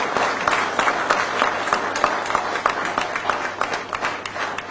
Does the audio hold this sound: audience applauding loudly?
yes